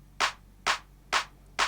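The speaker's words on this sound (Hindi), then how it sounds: "ये क्लैप सुनाई दे रही है" An FL Studio clap sample snaps four times in a regular pattern, each crisp, bright burst standing alone against silence.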